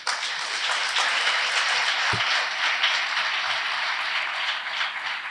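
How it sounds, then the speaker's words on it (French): A hall at a youth summit in Benin fills with steady audience applause for the elders present, a broad even wash of clapping heard at moderate distance with a faint thump partway through. "je voudrais qu'on applaudisse tous ceux qui sont nos aînés, qui sont présents dans cette salle"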